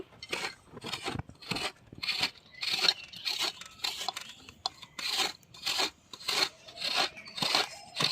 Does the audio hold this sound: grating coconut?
yes